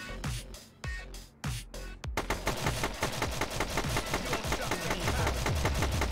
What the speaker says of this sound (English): We can block gunshots